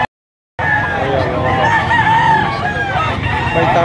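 A rooster crows loudly and close at a busy live poultry market in Lipa, Batangas, a sustained ringing call right after a brief moment of silence, with faint crowd noise underneath.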